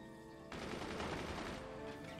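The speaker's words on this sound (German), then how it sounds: "Die Schüsse prallen einfach alle ab." Rapid gunfire in the video game Forts erupts abruptly as a dense burst of overlapping shots, loud and continuous, over a low background hum of game music.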